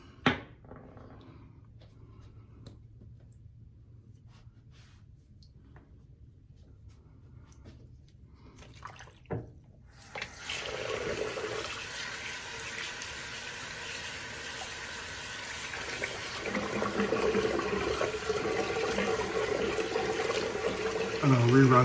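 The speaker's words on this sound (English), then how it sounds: "let's rinse her off and see what we got." Running tap water rinses a straight razor over a basin, a steady broadband rush that starts midway after a quiet stretch with faint handling and continues loud to the end.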